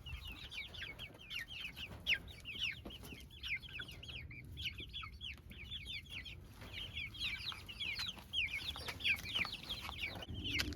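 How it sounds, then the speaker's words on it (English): Several chickens cluck steadily in quick, overlapping bursts, fairly faint, with no talking. "the chickens really love this"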